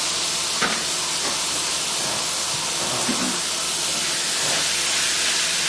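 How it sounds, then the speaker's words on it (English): Ground turkey hisses steadily in hot oil in a pan, a continuous, fairly loud sizzle with a few faint clicks and knocks underneath and no talking. "I'm going to go ahead and add my ground turkey and just allow that to start cooking"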